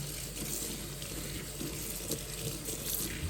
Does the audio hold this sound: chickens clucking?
no